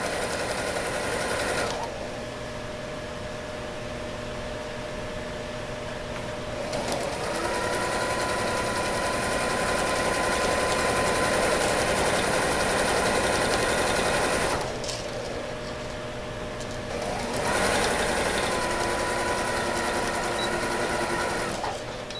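A sewing machine stitches a kitchen organizer, whirring loudly in long bursts with brief pauses between, the rapid needle rhythm steady and close throughout, no voices over it.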